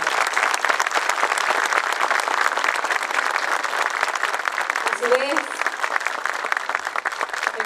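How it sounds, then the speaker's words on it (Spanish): Strong audience applause at a school's 150th anniversary official ceremony, dense and steady clapping throughout, with a voice heard briefly over it. "hecho que celebramos con un fortísimo aplauso."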